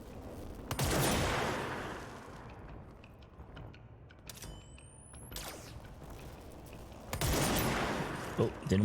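Bursts of gunfire from a shooter in the game Control, a loud volley early, sparse sharp shots and mechanical clicks in the middle, then another heavy burst near the end.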